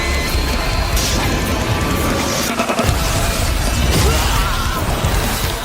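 Glass shatters and crashes amid a dense, roaring wash of noise, with a heavy impact in the middle and debris clattering throughout.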